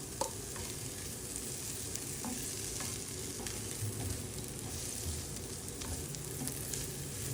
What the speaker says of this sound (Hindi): जब ऑयल गर्म हो जाएगा तब हम इसमें प्याज शामिल कर लेंगे।